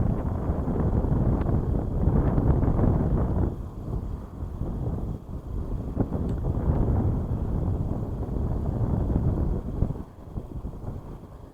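Wind gusts at a lakeside fishing spot, a steady low rumbling rush against the microphone that dips briefly and then swells again.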